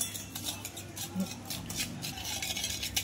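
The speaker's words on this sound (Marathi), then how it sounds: "आता साखर आणि दही छानपैकी आता एकदम मिक्स होऊन करून घ्यायचं आहे" Sugar and yogurt being stirred together in a bowl, a spoon scraping and tapping in repeated soft strokes at close range, fairly quiet.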